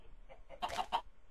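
Chickens clucking in the Minecraft video game, a few short squawks with a brief louder burst of clucks, no talking.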